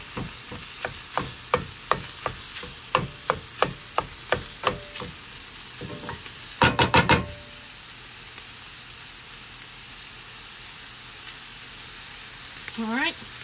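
Food crackles and sizzles in a frying pan as it browns, with irregular pops and spatters and a brief louder burst of crackling partway through, quiet and close.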